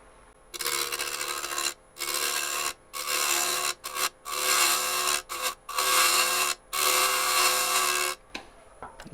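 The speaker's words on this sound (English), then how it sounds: "I'll flatten the rim off a little bit here" A half-inch bowl gouge shears the rim of a cored wooden bowl blank spinning on a lathe, heard as repeated loud rasping cutting passes of a second or so each, separated by brief quiet gaps, close up.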